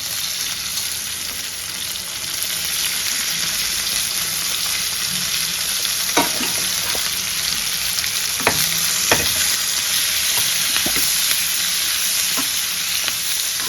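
Capsicum pieces cut into squares fry in a pan of oil, giving a steady bright sizzle throughout, with a few sharp stirring clicks and scrapes from the spatula partway through.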